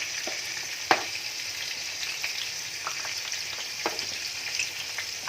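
Konkani shidori roti fries in hot oil with a steady, fine crackling sizzle throughout. A few louder pops and spatters stand out, most sharply near the one-second mark.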